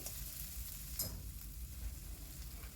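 Finely chopped medium onion frying in hot oil in a wok, a steady broadband sizzle with a few soft stirring clicks, close and continuous with no talking.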